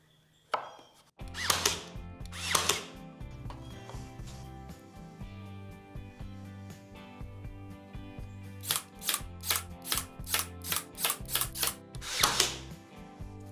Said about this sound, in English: I decided to shoot a single 1 1/4 inch screw into the back of each of those dividers